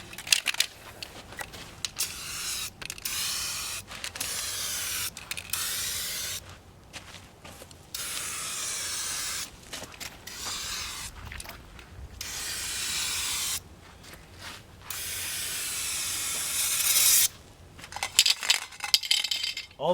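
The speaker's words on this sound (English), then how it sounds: "All those years of spray painting with a rattle can." A rattle can of Rust-Oleum paint hisses in long bursts with brief pauses between passes, close and steady, spraying the body of a car with an inline six-cylinder engine. No one speaks.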